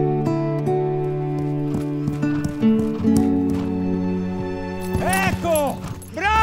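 A horse being trained neighs and whinnies, and its hooves clip-clop over music, with a long descending whinny near the end.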